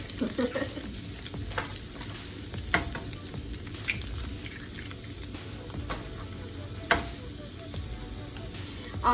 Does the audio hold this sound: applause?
no